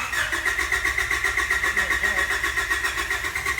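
Honda Integra sedan with a straight-pipe exhaust cranks with a rapid, rhythmic starter chatter, loud and close in a shop, the pulsing continuing steadily throughout.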